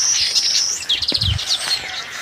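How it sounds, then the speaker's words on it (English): Small birds chirp and tweet on a morning in an African village, with bright, rapid high calls overlapping close by and a brief low thump midway, no voices. "birds are chirping,"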